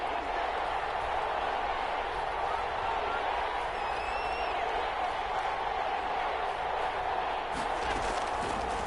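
Stadium crowd noise in the Madden 21 football video game, a steady roaring wash of cheering fans building ahead of a big third down, filling the whole stretch without a break.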